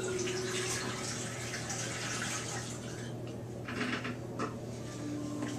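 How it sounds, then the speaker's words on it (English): D76 film developer is poured down a drain, making a steady, full rushing of liquid throughout, with a few brief splashy bursts toward the end. "D76 cannot be reclaimed, so we're simply going to dump this one down the drain."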